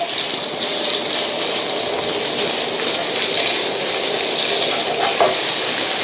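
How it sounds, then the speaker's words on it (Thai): Pork is stir-fried in oil left over from frying tofu, giving a loud, dense, continuous sizzle close up with faint stirring scrapes and no voices. "เราก็จะใช้น้ำมันที่เหลือจากการทอดเต้าหู้เมื่อสักครู่นี้นะครับ เราก็จะผัดให้หมูสุกก่อนนะครับ"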